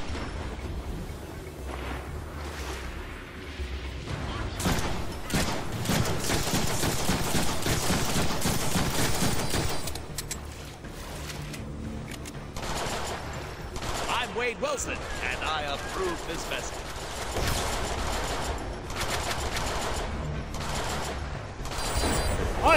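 Rapid bursts of gunfire from the Deadpool video game crackle loudly through most of the stretch, dense and continuous with brief lulls, over booming game effects.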